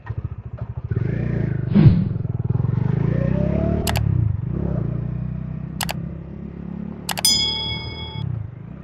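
A stock Bajaj Dominar 400 motorcycle exhaust blips and revs at close range, joined by a few sharp metallic clanks and ringing dings.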